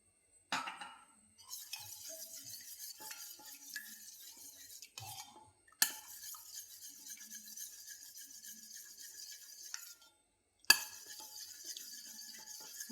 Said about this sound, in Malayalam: നല്ലോണം ഒന്ന് ഇളക്കി യോജിപ്പിക്കാം